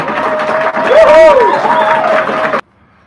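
A café crowd at a poetry reading at Sacred Grounds Cafe in San Francisco applauds and whoops as the featured poet comes up, loud clapping with rising cheers and voices mixed in, cutting off abruptly near the end.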